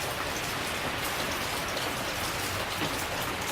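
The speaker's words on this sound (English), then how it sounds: "I really love the sound of the rain, you guys." Steady rain falling and pattering on surfaces outdoors, a dense, even hiss that stays constant from start to finish with no other sounds.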